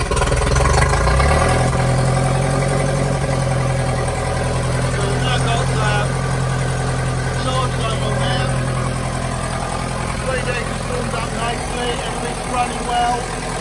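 A restored Ferguson TEA20 tractor engine runs steadily close by, a continuous low rumble with slight unevenness throughout the whole stretch, with no speech over it.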